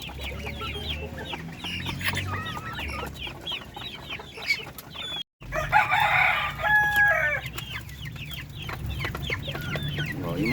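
Darag native chickens cluck and crow steadily for the whole stretch, with a rooster's loud crow rising near the middle over a busy chorus of hens on a farm.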